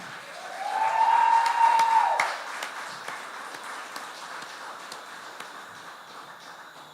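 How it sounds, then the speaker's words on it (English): Audience applause at a youth and sports council community awards ceremony in North Castries: a dense, steady wash of clapping that swells with a high whistle in the first two seconds, then settles into a quieter, continuing patter. "Ladies and gentlemen, a round of applause for Mr. Ethan Leandre."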